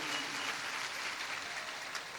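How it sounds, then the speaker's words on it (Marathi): Crowd at a Shiv Mahapuran religious discourse in Dongarkada applauds steadily, a dense wash of many hands clapping at moderate distance with no break. "एकदा मोकळ्या मनाने टाळ्या वाजवा सगळेजण."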